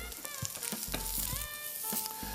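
Blackened ahi tuna sears in a hot pan with a continuous close sizzle, broken by faint clinks and shifting crackles, with no voices.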